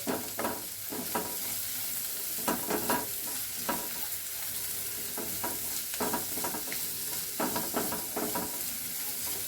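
A buttered bread snack mixture is stirred in a pan, with rhythmic bursts of scraping and tossing over a continuous sizzle, close and fairly loud.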